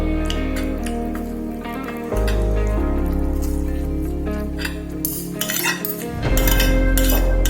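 Cutlery clinks and scrapes against a plate while finishing a home-cooked babi kecap, pork in sweet soy sauce, with repeated close metallic taps and scrapes over a steady background hum.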